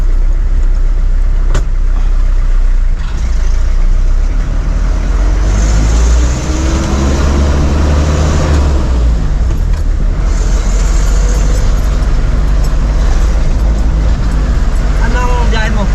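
A truck engine drones steadily and loudly through a long stretch of driving on an uphill road, with low rumbling throughout and brief gear-change surges, while people talk over it inside the cab.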